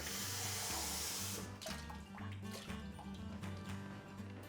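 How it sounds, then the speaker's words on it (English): Cold tap water pours into apple cider vinegar for a slaw, a brief rushing stream at the start that fades into small splashes and drips over a low hum. "For about as much apple cider vinegar as I put in, I'm then gonna add cold water"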